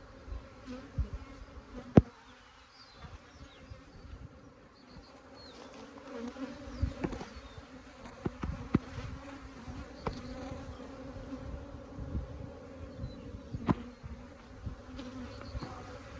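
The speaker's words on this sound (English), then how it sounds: "And these bees have just a little bit too much energy." Many honey bees buzz softly and continuously, a swarm-like hum with occasional individual insects droning louder as they pass close by.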